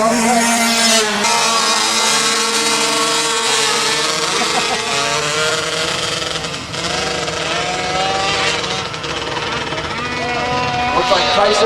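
Youth junior and senior quad ATVs race together on a TT track, their engines buzzing and whining continuously at varying pitch from a moderate distance, with a crowd murmur underneath.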